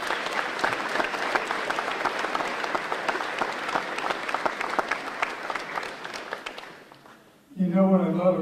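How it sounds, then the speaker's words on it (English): An audience applauds at a school event, dense steady clapping that fills most of the clip and fades out, followed by a voice beginning to speak. "give yourselves a round of applause"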